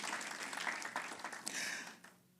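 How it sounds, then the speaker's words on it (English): An audience at a school Career and Technical Education month celebration claps for the communications group, a dense, moderately distant patter of many hands that fades out at the end. "Let's give communications a round of applause"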